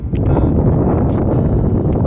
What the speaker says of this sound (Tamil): நல்ல காற்று ஓட்டமாக இருக்குங்க.